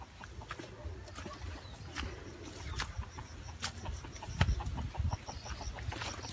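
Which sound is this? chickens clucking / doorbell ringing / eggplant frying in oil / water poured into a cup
chickens clucking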